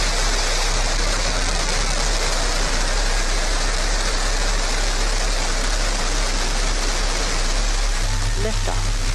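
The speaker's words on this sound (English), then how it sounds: "command engine start, 2, 1, ignition." Blue Origin rocket engine ignition at launch, heard as a loud, steady broadband roar that fills the whole clip, with a faint voice underneath toward the end.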